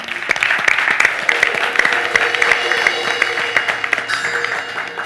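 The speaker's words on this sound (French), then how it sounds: "On va l'applaudir encore." Studio audience applauding, a dense and loud burst of many hands clapping that carries on steadily, with a few voices underneath.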